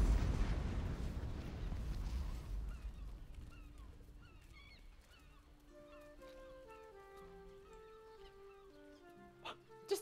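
A video-game explosion in Baldur's Gate 3 opens with a loud broad rumble that decays over several seconds, giving way to quiet music tones, with a couple of sharp clicks at the end.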